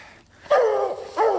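A Bluetick coonhound out on a night coon hunt gives two close, loud baying barks, a long drawn-out one followed by a shorter one after a brief pause.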